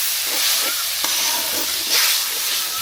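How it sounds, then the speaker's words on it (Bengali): Chili and turmeric spice paste frying in oil in a kadai for a pangas fish and pointed gourd curry, a loud continuous sizzle with occasional soft scrapes as it is stirred close by. "এখন আমি মশলাটা ভালোভাবে নেড়ে নিব, যেন কড়াইয়ে লেগে না যায়"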